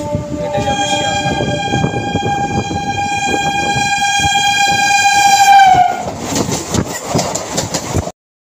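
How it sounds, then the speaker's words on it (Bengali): A train bound for Sealdah pulls into a station, its horn blaring long and loud for about six seconds over the heavy rumble of the rolling train, then the clatter of the carriages carries on near and loud. "আরেকটা ট্রেন আসছে মনে হয়, এটা শিয়ালদা যাবে"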